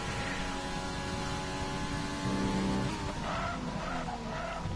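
A tire squeals as the front right wheel locks under braking in an F1 racing video game, a steady engine drone underneath with a brief rising screech midway.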